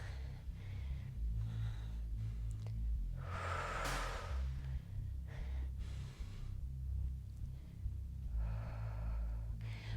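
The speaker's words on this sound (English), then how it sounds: "I'm breathing right here with you." During a glute and leg dumbbell workout, a person breathes heavily and close by, with repeated sharp inhales and exhales over a low background hum.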